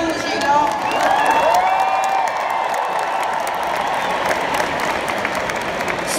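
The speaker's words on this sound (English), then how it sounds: "Give them a big round of applause, you lot." A crowd applauds and cheers, steady clapping filling the space with a few whoops and high shouts rising above the noise.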